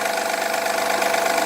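A 2011 Honda Accord engine idling on a cold start, running loud with a steady, rough mechanical drone and a knocking edge throughout, close and alone.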